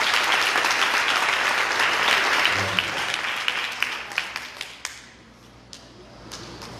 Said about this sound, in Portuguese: Pastor Adriano Moreira, aplauda o Senhor pela vida do servo do Senhor.